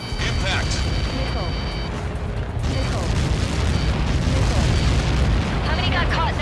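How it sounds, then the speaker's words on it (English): A massive blast in Ace Combat 7 rumbles as a dense, sustained low roar with crackling debris, loud and continuous throughout, with a brief dip partway before the rumble swells again. "How many got caught in that explosion?"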